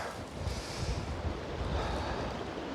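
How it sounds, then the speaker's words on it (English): Wind gusts buffet the microphone beside a river with a thin skin of ice forming on the water, a steady low rumble with swelling surges, fairly loud and with no voices. "the wind is really starting to pick up now"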